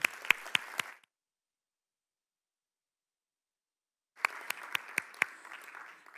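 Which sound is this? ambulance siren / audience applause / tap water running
audience applause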